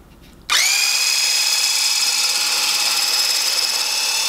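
A Litchi 4-in-1 hand mixer runs on its low speed setting in a bowl, switching on abruptly into a loud, steady high-pitched motor whine that holds without pause.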